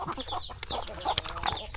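Rooster and hens of a country chicken farm clucking continuously and close by, with overlapping calls and no talk.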